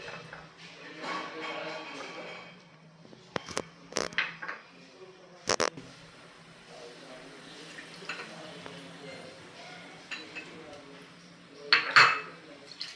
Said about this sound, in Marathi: ही डाळ आपण दोन तीन वेळेस स्वच्छ पाण्याने धुवून घेऊयात